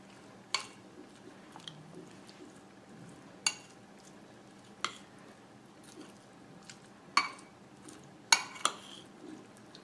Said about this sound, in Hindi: अब इसको मैं मिक्स कर रही हूँ।